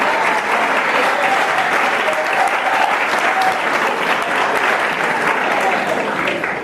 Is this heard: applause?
yes